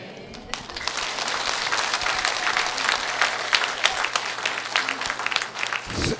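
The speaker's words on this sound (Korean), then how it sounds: "다시 한번 박수 드립니다" Applause from a church congregation during a Catholic Advent retreat, a steady sustained clapping that fills the space for several seconds before tapering off.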